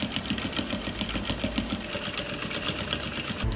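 A sewing machine stitches a Dresden Plate patchwork placemat, its needle hammering in a fast, even, continuous rhythm close up, with no talking.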